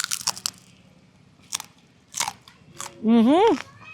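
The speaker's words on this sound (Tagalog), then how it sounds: "dinig na dinig nila yung pagka-crunchy talaga" Crispy pata, a deep-fried pork knuckle, crunches loudly in several close bites with short pauses between them, followed by a brief voiced exclamation near the end.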